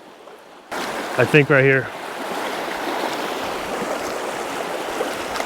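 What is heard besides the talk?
river current flowing over rocks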